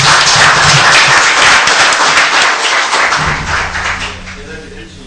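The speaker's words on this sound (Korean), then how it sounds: "당황스러울 때는 박수로 한번 격려하는 겁니다." A church forum audience claps in a burst of applause that fades out over a few seconds, with a voice speaking underneath near the end.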